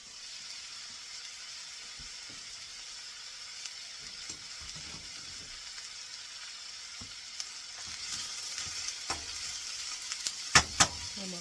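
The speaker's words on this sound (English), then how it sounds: "I'm going to fry it down a little bit." Vegetables frying in a pan for an omelet give a steady, soft sizzle, with a few louder clicks and stirring scrapes near the end.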